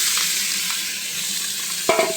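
Onions and meat fry in a pan with a close, steady sizzle, and a brief clatter of stirring comes near the end; no one speaks.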